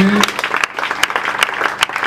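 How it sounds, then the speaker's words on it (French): Congregation at a church service clapping together for the Lord Jesus, a ragged burst of hand claps with sharp peaks, close and lively, with voices mixed in. "Est-ce qu'on peut applaudir pour le Seigneur Jésus?"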